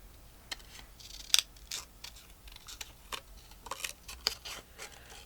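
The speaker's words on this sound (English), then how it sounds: "These are kind of big scissors to do this with." Big scissors snip through paper for an art journal, the quiet crisp cuts coming one after another in an uneven rhythm with small rustles between them.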